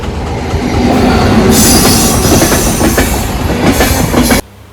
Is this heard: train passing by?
yes